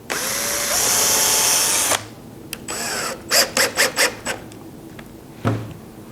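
A power drill bores holes into a wooden picture frame: one steady two-second whir, then a series of short, sharp drill bursts with quiet gaps between them.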